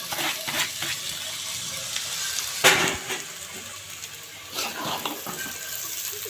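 Washed egg noodles tipped into a hot pan and stirred, giving a close, steady frying hiss with scraping and clattering bursts from the utensil against the pan.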